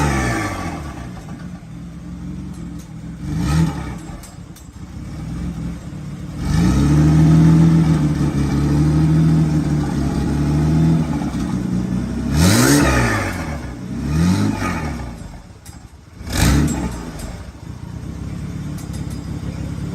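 A 1995 Ford Taurus engine idles and revs repeatedly with a slight misfire, running close and loud through several rising and falling revs, with no one speaking.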